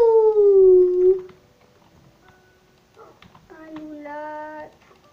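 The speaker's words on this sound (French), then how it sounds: "Un os pour mes toutous." Minecraft Bedrock dogs howl in a drawn-out falling wail, then after a quiet gap a second pitched howl rises and holds, with faint game noises in between.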